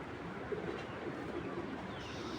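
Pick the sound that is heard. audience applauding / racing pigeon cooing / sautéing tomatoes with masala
racing pigeon cooing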